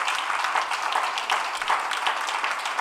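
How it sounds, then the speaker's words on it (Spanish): A church congregation applauds during a worship service, a dense, steady wash of many hands clapping close and loud throughout, with no break. "Dale un mejor aplauso a aquel que ha de venir"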